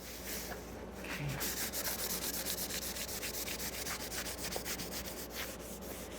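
A cloth wiping milk paint off a wooden board, a steady close scrubbing rub with fast repeated strokes, continuous and fairly quiet.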